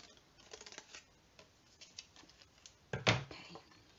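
Paper trimmer slicing whisper white card stock down to size for a kangaroo-themed card, with soft scattered rustles and taps leading to one sharp, crisp cutting swipe, close and quiet.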